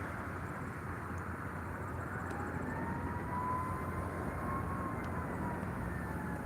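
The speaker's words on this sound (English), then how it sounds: "The plane took off and then came right back in now." A fixed-wing plane at Albany International Airport comes back in to land shortly after takeoff, its engine a steady, broad roar at moderate distance that holds throughout with a slowly shifting tone.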